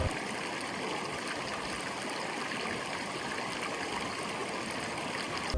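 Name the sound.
cold creek flowing beside hot spring pools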